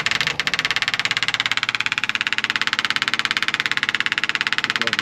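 A fuel pump on a 1979 Chevrolet C20 square-body truck with a 454 primes with a rapid, even clicking that runs continuously and fairly close throughout, with no talk.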